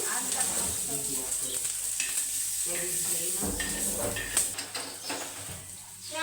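Green chilies roasting in a pan on a gas stove, a continuous close sizzle and crackle with a hissing edge, occasional light scrapes, no voices.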